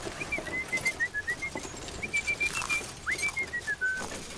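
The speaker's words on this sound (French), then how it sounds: "Peut-être un rouge-gorge." A robin sings in a story sound effect, giving a series of thin, high, wavering whistled phrases with short pauses between them over a soft background rustle.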